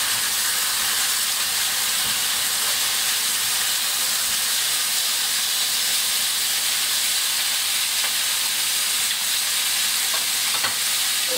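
Pork frying in a pan during kitchen meal prep, a steady, dense sizzle and hiss that continues evenly throughout, with a few faint clicks of the meat being turned.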